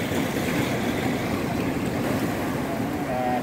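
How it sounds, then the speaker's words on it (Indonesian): Ocean waves surge and crash steadily at Wediombo beach in Gunung Kidul, a loud, continuous roar of surf with wind buffeting the microphone throughout. "Ini deburan ombak"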